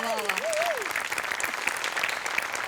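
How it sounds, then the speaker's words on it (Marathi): Studio audience applause on a Marathi comedy sketch show stage, steady dense clapping filling the whole stretch at constant loudness, with a brief voice rising over it near the start. "या स्पिरिटसाठी टाळ्या"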